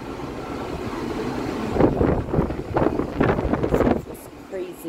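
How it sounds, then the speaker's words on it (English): A strong gust of wind sweeps across the deck of the Carnival Glory cruise ship in Mahogany Bay, Honduras, swelling into several rough, blustery bursts over a low background rush before easing off. "This crazy gust of air."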